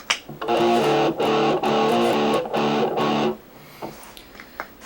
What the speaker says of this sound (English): And then with the distortion back on again.